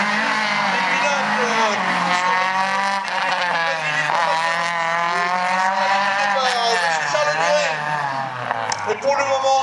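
A GT Turbo race car screams through a slalom event at Agon-Coutainville, engine note climbing and falling with shifts and tire squeal, loud and near, under continuous French commentary.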